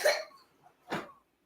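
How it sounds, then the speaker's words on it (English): Two short, sharp coughs close up, separated by a brief pause, with quiet between them. "He's coughing."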